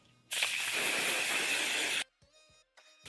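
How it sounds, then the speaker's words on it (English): Hairspray hisses from an aerosol can onto a human hair wig in one loud, steady burst lasting under two seconds, followed by a few faint clicks and light handling noises. "All right, a little bit of our hairspray."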